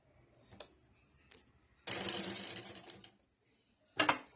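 A sewing machine stitches a folded sari near the mic, with a short whirring run of stitches between brief clicks and handling taps.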